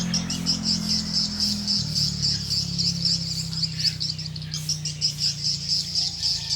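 Continuous high, buzzing chirps and twittering from many swiftlets flying in and out of a swiftlet house, a dense steady chorus over a low background hum.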